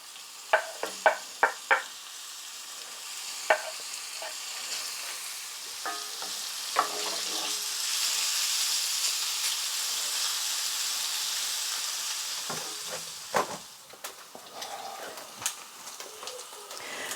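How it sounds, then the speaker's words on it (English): Sausages fry in hot olive oil in a pan, a soft steady sizzle with a few scattered clicks and taps of utensils against the pan, fairly quiet throughout. "I'm now going to fry these sausages until they're golden."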